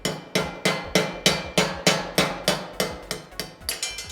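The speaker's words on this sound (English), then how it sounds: "Place it directly over the brass bush and lightly tap it" Steady series of about fourteen light metallic taps as an 11.5mm drill is knocked against a brass bush, close and evenly spaced, quickening slightly toward the end with no talking.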